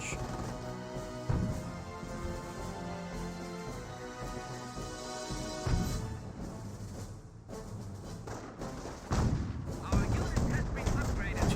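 Rapid bursts of small-arms and machine-gun fire in a Company of Heroes match between Panzer Elite and US forces, crackling continuously with heavier thuds and blasts layered over a dense battle din.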